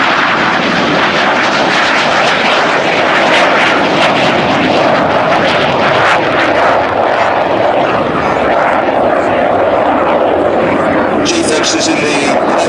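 Harrier jet in the colours of No. 111 Squadron performing a flying display at an RAF open day air show in 2002, a loud, continuous engine roar that stays near and steady throughout.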